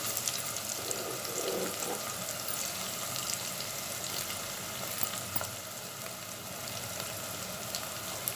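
Crushed garlic hits golden-fried onions in a hot pan, producing a continuous, fairly loud hiss and crackle that stays even throughout with a couple of small pops and no speech.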